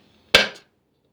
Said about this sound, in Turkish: Kesiyorum şu anda arkadaşlar. Küçük küçük.